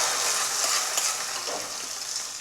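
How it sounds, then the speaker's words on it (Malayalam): Hot tempering with curry leaves is poured into olan, a Kerala coconut curry, setting off a bright, dense sizzle that crackles steadily and then eases slightly over a couple of seconds. "അപ്പോൾ ഇനി നമ്മൾക്ക് വറവ് ഓലനിലേക്ക് ഒഴിച്ചു കൊടുക്കാം."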